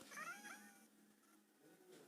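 A cat meows in the video game Minecraft, one clear meow followed by a softer trailing call, near and alone.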